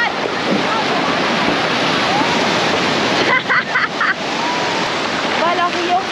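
Surf washing onto a beach in Rio de Janeiro, a continuous broad rush of breaking waves close by, with faint voices and brief sounds briefly cutting through midway.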